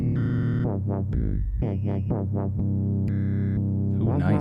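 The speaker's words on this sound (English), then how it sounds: "Let's go for some glitch sounds" Glitchy, stuttering tones from a Hologram Microcosm effects pedal, forming repeated chopped bursts and sweeping tonal fragments with a steady low bass underneath, loud and continuous, with a brief spoken remark near the end.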